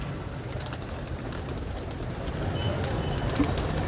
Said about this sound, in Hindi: ये देखें कबूतर नीचे आ रहे हैं, कुछ कबूतर नीचे आ चुके हैं,